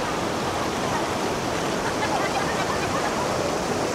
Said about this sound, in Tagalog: Dito banda medyo mano na yung tubig o, malakas na yung agos niya.